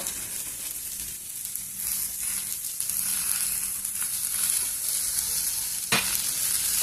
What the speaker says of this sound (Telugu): కొద్దిసేపు దీన్ని వేయించుకున్నాం ఇంకా కొబ్బరి అంతా బాగా వేగుతుంది